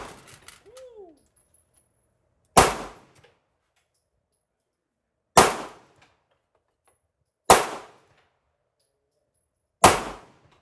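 Four sharp, loud Canik handgun shots ring out one at a time with long pauses between, each crack decaying quickly into silence.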